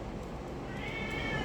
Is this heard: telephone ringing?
no